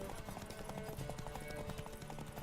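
Horse hooves clip-clop steadily in The Witcher 3 video game, a continuous trotting rhythm laid over busy game ambience and music.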